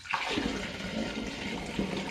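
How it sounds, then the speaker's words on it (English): Warm apple tea poured into a homebrew gin-infused hard apple cider brew gives a short gushing, splashing pour of liquid, close and clear, lasting about two seconds. "I'm now going to pour my apple tea on top of this."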